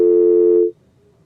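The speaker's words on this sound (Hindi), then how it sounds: "उनकी फोन लाइन डिस्कनेक्ट हो गई" A telephone tone sounds after a phone line disconnects, loud and steady, then cuts off abruptly into near silence after about two thirds of a second.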